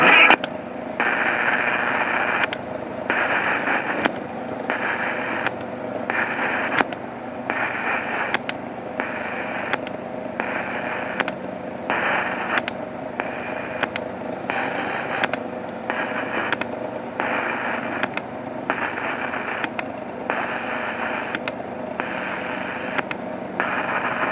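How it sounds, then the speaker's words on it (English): Music plays from an RCA RP3710A clock radio, a steady tone-heavy broadcast chopped by regular short dropouts and bursts of interference, with no talk over it. "There's more music."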